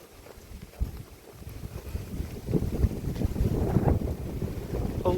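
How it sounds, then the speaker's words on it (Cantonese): Strong wind gusts buffet the microphone on a hiking trail near a reservoir, a steady roaring rush that swells louder toward the end, with no talking. "好大風啊！"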